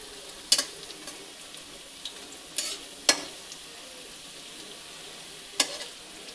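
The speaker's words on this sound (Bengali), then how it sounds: "একটু ভালো করে ক্রিস্পি হোক ভাজা" Garlic and curry leaves fry in oil in a pan, a soft continuous sizzle broken by a few sharp scraping stirs and clinks of a spoon, close and without talk.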